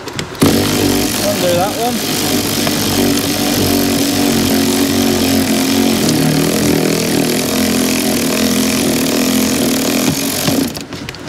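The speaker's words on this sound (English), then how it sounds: "I like to use the power ratchet, so I'll force it in there and undo" A power ratchet undoes a bolt during a dashboard change on a Kia Ceed GT-Line. It makes a loud, steady, continuous whirring drone for about ten seconds, and a brief voice is heard.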